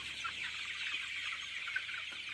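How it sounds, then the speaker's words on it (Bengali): A flock of 40-day-old chickens in a poultry shed clucking softly, a faint continuous murmur of many birds with no talking. "দেখছেন, 40 দিনের মুরগি"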